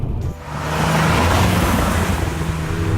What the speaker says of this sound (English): listen to that exhaust. It's titanium, and for me it's weird sounding and a bit too quiet